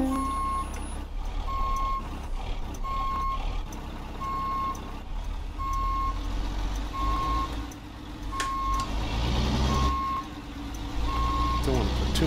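A Mack R truck pulling a Timpte Super Seal reefer trailer reverses in a trucking simulator, steady regular reversing beeps over a low diesel engine drone, with someone talking throughout.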